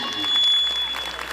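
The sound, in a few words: audience applause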